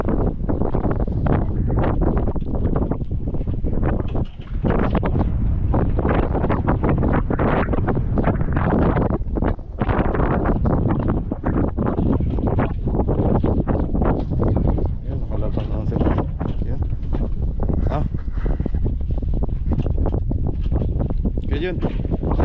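Strong wind gusts loudly against the microphone throughout at a relaxing outdoor spot, probably aboard or beside a boat, with people talking underneath.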